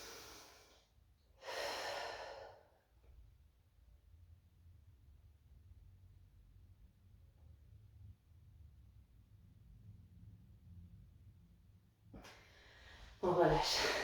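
Deep breaths drawn in and let out during a postpartum abdominal exercise session, a loud inhale near the start, a long quiet stretch, then another breath near the end.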